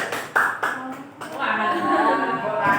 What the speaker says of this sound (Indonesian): Instruksinya adalah tepuk tangan.